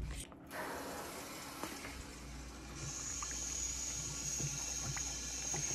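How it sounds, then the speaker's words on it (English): Water runs from a valve into a pan beside an air-conditioning unit with a clogged drain line, a steady splashing hiss building as the pan fills, close and moderately loud after a brief clunk of the valve. "I'm just gonna fill this pan up."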